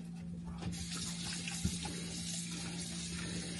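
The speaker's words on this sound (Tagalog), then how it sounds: "iki clear ko muna tong ang lababo namin para malagay ko yung strawberry dito mahugasan ko." Water running steadily from a kitchen sink faucet to wash strawberries, a continuous close splashing stream with a low hum beneath and a few brief clinks.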